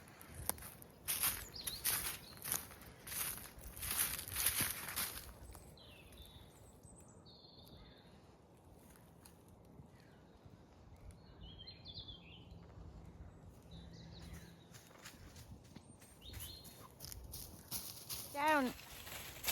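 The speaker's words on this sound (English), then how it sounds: "Listen to the birds, it's beautiful." Birds chirp and sing in open woodland, a few calls clustered at first and others scattered farther off, with wind, rustling and faint movement throughout.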